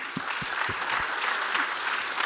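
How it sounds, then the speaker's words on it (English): Audience at a product-talent conference in Africa breaks into applause, a dense wash of many hands clapping at moderate distance, steady throughout with no pauses. "That deserves a round of applause"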